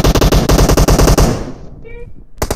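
Rapid machine gun fire in a video game, a loud close burst of evenly spaced shots lasting over a second, then a short tail before a brief sound at the end.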